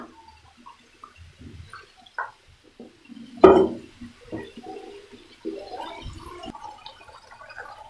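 Water splashes and bubbles into a pan of frying mochai masala, a Tamil field bean dish, with a sharp gurgling burst followed by softer intermittent bubbling and dripping, close and with no talk.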